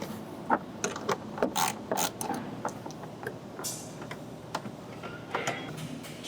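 Ratchet with a 10mm socket loosening screws under a speaker grille in a 2014–2019 Toyota Tundra dash, giving a series of close, quick mechanical clicks and ticks in short bursts with pauses, no talk.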